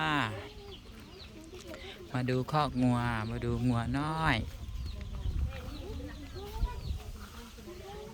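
Chickens cluck faintly in the background at a cattle pen while someone talks and sings a short phrase nearby.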